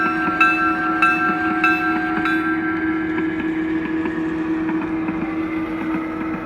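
An AML GP60 model locomotive with a Blunami sound decoder runs smoothly, its loud steady diesel engine drone and whine accompanied by a few clicks early on, with no talking.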